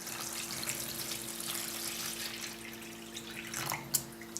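Water with a pH of 6.0 is poured about an inch deep into pots of hydroponic growing media, a steady close splashing trickle that runs unbroken for several seconds and ends in a few small drips.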